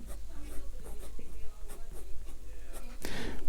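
Close, quiet scratching of a fountain pen with a fine steel Sailor nib on paper, short strokes and pauses ending in a quick sweeping stroke, under a faint low hum.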